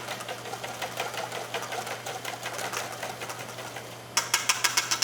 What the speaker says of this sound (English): We'll whisk that into our hollandaise.